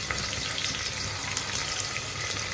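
Onion and tomato with whole spices frying in a pan for a vajdi curry, a steady close hissing sizzle with faint stirring, continuous and fairly quiet with no talk.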